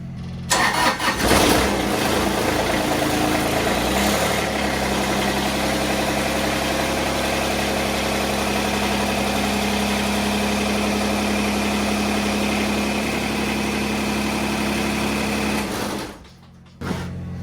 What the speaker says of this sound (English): I'm going to lift the loader up